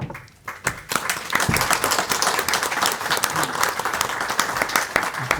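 An audience at a magazine presentation in Avilés breaks into sustained applause, a dense wash of many hands clapping that swells after a brief quiet start and holds steady throughout.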